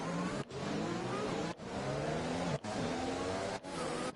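Formula 2 race cars in the PS4 F1 game at Zandvoort, engines revving steadily as the field sets off on the formation lap, a loud continuous multi-car drone with brief dips roughly every second.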